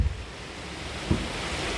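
Wind blowing outdoors, a steady broadband rush buffeting the microphone with a couple of brief low gusts, no voices.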